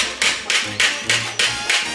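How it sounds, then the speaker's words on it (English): A hammer taps the edge of a sheet-metal motorcycle fender in a steady rhythm, six sharp metallic strikes about a quarter second apart, loud and close, no voices. "Tapping the edge of that"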